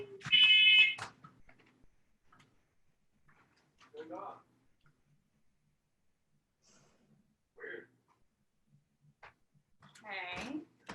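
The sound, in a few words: fire alarm going off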